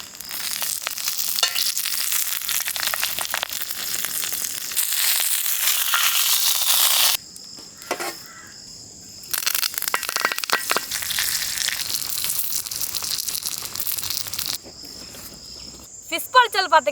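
Fish wrapped in banana leaf fries in coconut oil on a griddle for Kerala meen pollichathu, with loud, dense sizzling that cuts off abruptly and returns in bursts, mixed with brief handling clatter.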